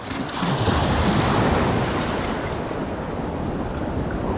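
Sea waves surging in on a shore in a steady, loud wash with wind buffeting the microphone, the surf rising early and holding as a broad rushing roar throughout.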